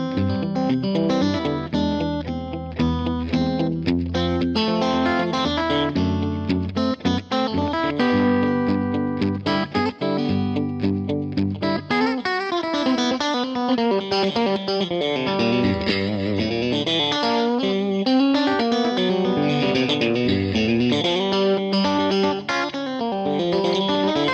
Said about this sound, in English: Next is Flange Echo.